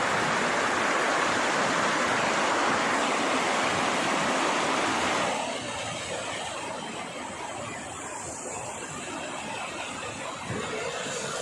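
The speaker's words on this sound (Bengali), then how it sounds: "এই যে বরফের মাঝে ঝর্ণা।" A waterfall amid snow in Lachung, Sikkim, roars as dense, loud, steady rushing water close by, dropping to a softer, more distant wash about halfway through.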